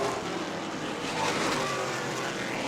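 Race cars on a racetrack give a continuous roaring engine drone, loud and fairly steady, with the pitch shifting slightly as they pass; no talk.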